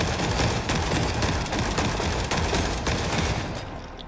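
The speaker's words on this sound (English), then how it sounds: "I think they're shooting at each other." Enemies trading gunfire in The Forever Winter: sustained, overlapping bursts of automatic fire at mid distance, a dense fusillade with sharp individual cracks that thins toward the end.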